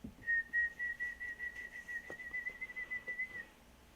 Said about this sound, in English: I can whistle like this, but I can't whistle like this.